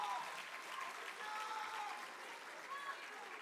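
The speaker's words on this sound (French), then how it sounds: "Encore un grand merci à l'équipe technique. Vous pouvez les applaudir." An audience at an evening event applauds the technical team, giving sustained, fairly faint clapping that sounds somewhat distant, with no talking over it.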